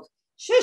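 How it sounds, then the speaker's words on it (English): A dog barks and yips loudly close by in a short burst after a moment of quiet, with a brief voice heard just before it. "sorry, that's my dog."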